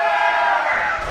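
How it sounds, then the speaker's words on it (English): A wrestling crowd at a Santino Bros. Wrestling fight night in Azusa, California, roars and shouts in one sustained, loud wash of voices, fading slightly at the end. "This crowd has had enough of Michael Revenant."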